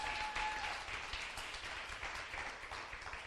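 Sustained applause from an audience during a church discipleship talk, a dense, steady wash of clapping that runs evenly from start to finish at a moderate level.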